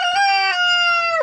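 A rooster crows loudly and close at a chicken coop, one long drawn-out call.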